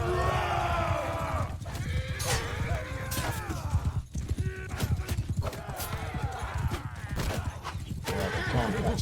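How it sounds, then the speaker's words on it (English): Horses in Mount and Blade Bannerlord 2 neigh and whinny repeatedly over rapid galloping hoofbeats, loud and close, with battle noise in the background. "My horse is not nimble enough."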